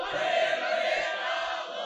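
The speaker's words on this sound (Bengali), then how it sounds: "একটু জোরে তাকবীর দেন" A large crowd at an Islamic political rally in Bangladesh shouts a takbir chant in unison, a sustained, loud massed roar of voices with no pause.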